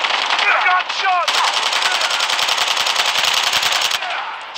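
Loud rapid automatic gunfire in the mobile shooter Call of Duty Mobile, a sustained burst of close shots after a brief lead-in of game sounds.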